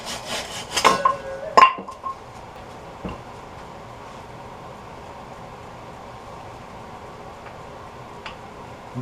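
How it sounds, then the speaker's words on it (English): A new, sharp hand saw cuts wood over a cast iron lathe, giving a few quick rasping strokes close by in the first two seconds, followed by near silence with faint knocks. "using a nice new sharp saw over a cast iron lathe."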